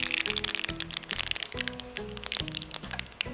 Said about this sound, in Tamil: கொஞ்சமாக கடுகு, கடுகை பொரிய விட்டுட்டு அதுக்கப்புறம் அதில் உளுந்து சேர்க்கலாம்.